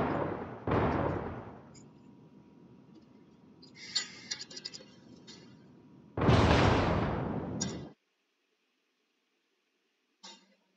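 Naval cannon fire in World of Warships during a tier VIII clan battle: heavy booming salvos come in loud bursts, with crackling impacts in between and quiet gaps. No one speaks.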